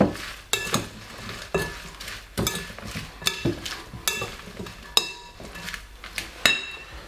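Tagliatelle pasta salad with black pepper is tossed in a bowl, giving repeated close clinks, taps and soft wet stirring sounds in an uneven rhythm, with no one talking.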